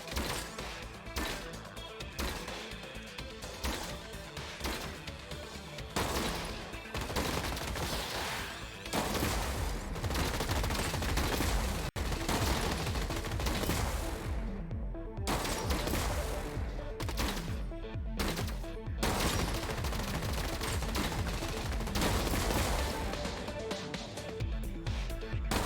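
Shotgun and machine gun fire from robot units in the video game Gladiabots, a dense, continuous barrage of rapid bursts and blasts mixed with crashing impacts throughout.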